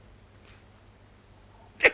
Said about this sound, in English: So I was trying not to sneeze. Failed miserably.